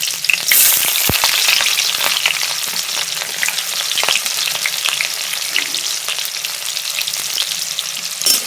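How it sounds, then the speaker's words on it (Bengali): Chopped onions fry in hot oil with whole cumin and slit green chillies for a thin red curry of country chicken, giving a steady, close crackling sizzle with occasional sharp pops and stirring scrapes throughout. "পেঁয়াজগুলোকে একটু ভাজা ভাজা করে নিলাম"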